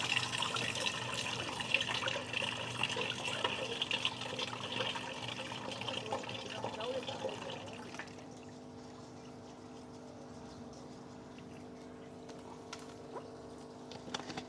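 Green-water feed fermented overnight, with the dregs held back, pours into a tank as a steady splashing, gurgling stream for several seconds before easing into a quieter trickle, heard close with no talking.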